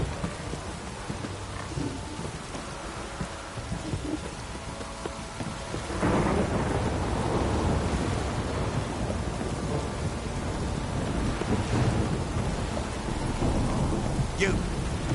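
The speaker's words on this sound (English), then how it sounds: "This downpour's a bastard, it is." Heavy rain and rumbling thunder in The Witcher 3 build into a loud, steady downpour with a low storm rumble after a quieter start and an occasional voice in the background.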